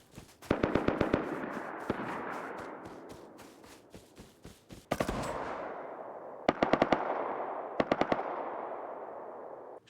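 Rapid bursts of gunfire in the Rust video game, loud cracking shots in quick volleys with echoing tails, pausing between strings of shots, no talk.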